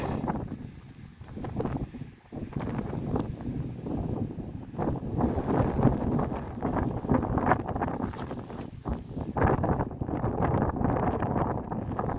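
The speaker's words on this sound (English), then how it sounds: "A little bit windy today." Gusty wind buffets the microphone in strong, uneven bursts with a low rumbling roar at a fire opal mining site, rising and falling continuously throughout, with no talking.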